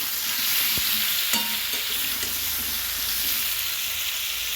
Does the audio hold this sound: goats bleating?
no